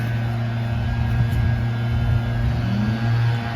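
A Briggs 5HP engine on a Craftsman wood chipper runs with a steady, loud mid-pitched drone and a slight rise in pitch near the end, close and alone.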